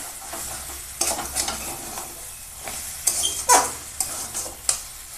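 Greens being stirred with shrimp and sugar in a pan, a soft, wet scraping and light sizzle that rises in short bursts of spoon strokes, close and moderately loud with no talking.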